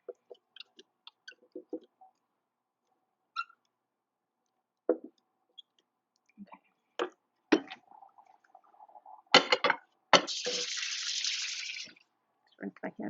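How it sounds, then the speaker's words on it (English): Hands being rinsed under a running kitchen tap after handling spicy chili, a burst of faucet water lasting about two seconds amid scattered clinks and handling noises, close and fairly quiet. "Rinse my hands off."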